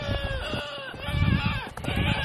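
Backyard goats bleat over and over in wavering, overlapping cries close by, loud and insistent, with some faint background noise beneath.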